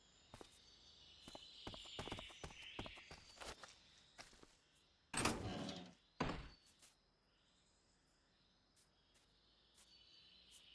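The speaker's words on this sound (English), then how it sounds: "Footsteps." Footsteps in the Metal Gear video game: a run of soft, quick steps, then a few louder, heavier thuds and sparse faint taps, against a quiet background with no talking.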